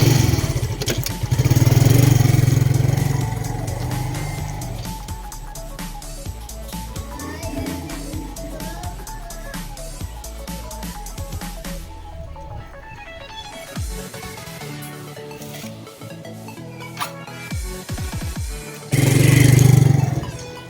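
A motorcycle engine on a test ride after front fork repairs, revving and running with uneven throttle bursts, loud and close, with a couple of stronger surges near the start and end.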